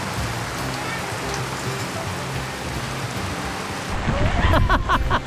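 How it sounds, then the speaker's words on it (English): Steady rain hisses and patters throughout on board a boat during a cold front, with a louder burst of splashing and rattling near the end. "And it's raining."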